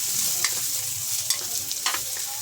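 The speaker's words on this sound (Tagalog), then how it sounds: "Piniprito ko muna yung manok." Chicken for tinola sizzles in hot oil with ginger while a utensil scrapes and stirs the pan in several quick strokes, close and loud.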